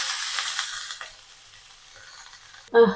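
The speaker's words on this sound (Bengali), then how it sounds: "এই যে আমার মাছের মাথাটা ভাজা হয়ে গেছে, এখন পুঁই শাকটা দিয়ে দিই" Fried fish head sizzling in a pan with hiss fading as Malabar spinach goes in, then a short sharp clank or scrape at the very end.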